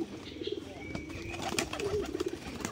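Several domestic pigeons at a home loft in Manikganj give soft, rolling coos in short repeated bursts, close and fairly quiet against a light background hum.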